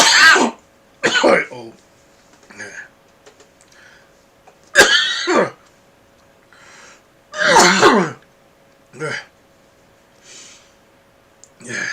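A person coughs and clears their throat in several harsh bursts, loud and close, during a live collection-update and unboxing stream, with a brief spoken exclamation among the fits.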